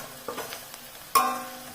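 Methi paratha frying in a pan with a small amount of white oil, a soft sizzle that jumps louder with a sudden clatter midway, close up, with no talking.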